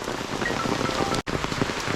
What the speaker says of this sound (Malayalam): ഇപ്പോൾ വന്നപ്പോൾ മഴയായി പോയി കേട്ടോ